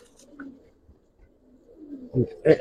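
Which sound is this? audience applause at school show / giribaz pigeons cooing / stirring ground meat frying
giribaz pigeons cooing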